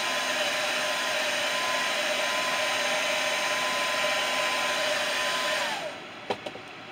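A hair dryer blows to dry fresh paint on a crankbait fishing lure. It gives a loud, steady whirring hiss, then switches off near the end, followed by a couple of faint clicks.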